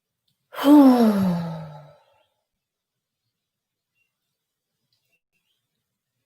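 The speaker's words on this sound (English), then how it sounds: "I'm going to take a deep cleansing breath right now" A single deep cleansing breath, exhaled as a long audible sigh up close, fading out into silence.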